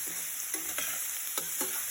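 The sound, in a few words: chopped vegetables cooking in the pan with mushroom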